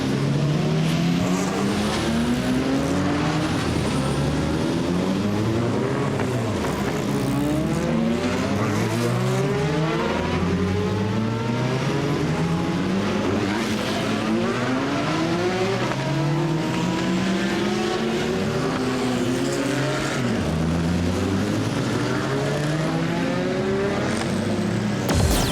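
Race cars at Le Mans leave the pits one after another, their engines roaring and sweeping up through the gears in repeated loud passes that overlap without pause.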